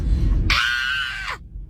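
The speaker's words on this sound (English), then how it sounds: "That's my scream." A person lets out a single loud, sustained scream lasting under a second, cutting off abruptly, with low background noise before it.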